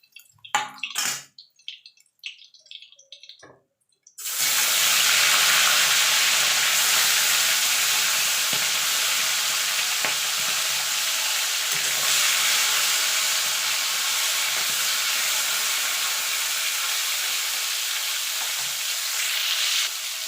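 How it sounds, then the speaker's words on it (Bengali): Tangra fish fry in hot oil in a loud, continuous sizzle that starts abruptly after a few seconds of faint kitchen clatter and holds steady to the end. "এইভাবে বাকি মাছগুলো সব আমি ভেজে নেব।"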